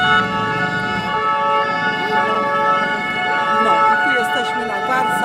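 Police vehicle sirens wail loudly and continuously on a Paris street during protests, with layered tones from several vehicles close by and people talking underneath.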